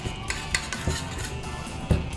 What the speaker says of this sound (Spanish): Ahora tenemos la crema de leche, la batimos un poco